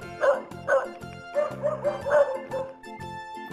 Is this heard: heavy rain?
no